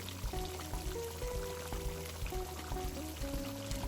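Fresh ghee poured into a prawn malai curry made with coconut milk and lobster prawns, giving a steady liquid pour with small splashy drips over low kitchen background noise.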